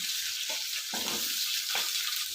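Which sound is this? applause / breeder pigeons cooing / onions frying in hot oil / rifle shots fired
onions frying in hot oil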